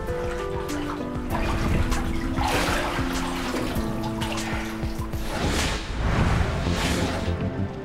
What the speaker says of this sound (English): She was taken to bathe in the water from St.